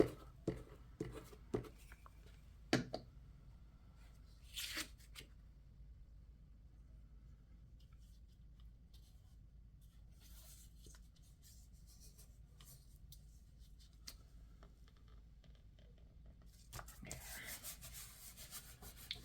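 Ink blending tool rubbed across paper journal cards, a soft steady scrubbing with a few sharper scuffs and taps at the start and end, faint and close.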